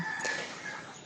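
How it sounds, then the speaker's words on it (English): Roosters crow faintly in the background in rural Pai, Thailand, one brief distant call against ambient outdoor noise. "so if you hear those roosters in the background, that's what that is."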